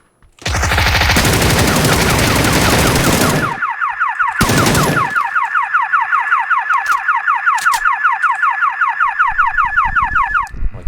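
Loud burst of automatic gunfire in PUBG strikes a car, followed by another short burst; then the car alarm starts and blares a rapid, repeating warbling wail that continues to the end.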